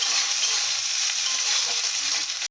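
Food frying in hot oil makes a loud, dense, unbroken sizzle close up, with no talking, until it stops abruptly at the end.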